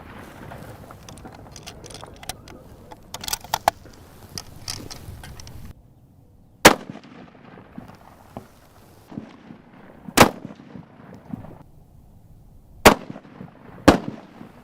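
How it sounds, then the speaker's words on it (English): A rifle with a freshly mounted scope fires sharp, loud shots at a 100-yard target, each crack standing alone with several seconds of quiet outdoor background between them. "shoot a 3-shot group to see if we're nice and tight on zero"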